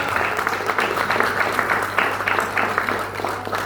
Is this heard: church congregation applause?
yes